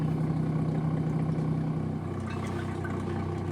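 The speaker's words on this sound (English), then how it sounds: "you can start to hear the pump change tone just a little bit" A hand oil pump drawing engine oil from a 1984 Chris-Craft Catalina 381 boat engine through the dipstick tube, a steady close mechanical hum whose tone shifts partway through as it begins to pull air.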